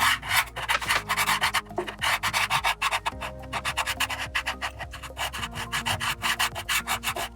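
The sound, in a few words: rubbing and smudging dry chalk pastel on paper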